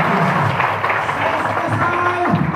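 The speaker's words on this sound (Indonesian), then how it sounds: "Beri tepuk tangan yang meriah." A congregation at a Christmas service applauds in a dense, continuous wash of clapping and crowd noise, loud and close throughout.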